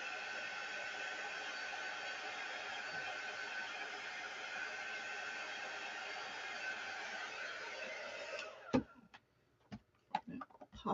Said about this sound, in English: I'm going to plug in my quick dry tool. Get that mostly dry.